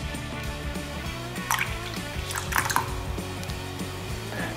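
Keystone beer poured over freshly plasma-cut steel on a CNC water table, giving soft dripping and splashing bursts over a steady background hum, with no talk.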